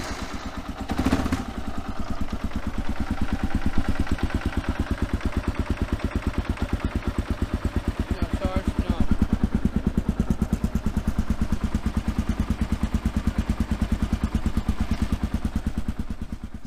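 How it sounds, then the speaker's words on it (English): Kawasaki KLR 650 motorcycle engine idles steadily after a fresh oil change, a close, loud, rapid single-cylinder thump with mechanical clatter that holds an even rhythm throughout. "we're going to start her up, let it run for a couple minutes, and then check our oil level again"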